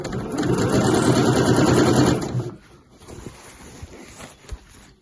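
Sewing machine stitching fabric around a zip pocket on a weekender bag, a fast, close mechanical whir for about two seconds, then stopping into quiet handling noises.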